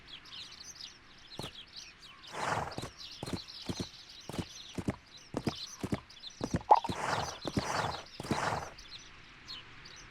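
Horse hooves clip-clopping in a horse riding video game: sharp, irregular hoof clicks at close range over a soft ambient bed with faint bird chirps, and no talking.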